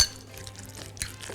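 Peppers and cherry tomatoes are stirred with a little olive oil in a pan, giving soft scraping and light sizzling with a few brief clinks over a short stretch.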